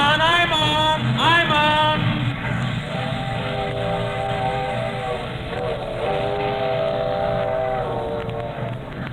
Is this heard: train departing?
yes